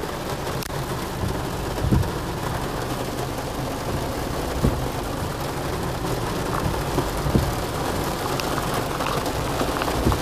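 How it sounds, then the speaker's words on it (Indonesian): Heavy, steady downpour of rain, loud and continuous throughout, with a few faint low rumbles in the background. "Guys, hujannya luar biasa, kencang."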